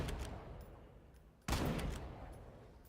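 Gunfire from the zombie shooter Killing Floor 2: a rapid string of shots at moderate level, a brief dip, then a sharp loud burst followed by continued firing.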